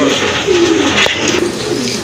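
Local desi pigeons coo in low, rolling murmurs, close by, several overlapping calls over steady background noise.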